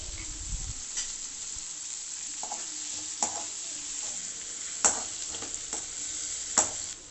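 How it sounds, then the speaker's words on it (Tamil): Finely chopped garlic, onion and curry leaves sauté in a pan with a steady, quiet sizzle, broken by a few sharp scrapes and taps of a spatula stirring, and no talk. "பொடியாக கட் பண்ணி வச்சுருக்க 4 பல் பூண்டை சேர்த்துட்டு நல்லா வதக்கி விட்டுக்குங்க"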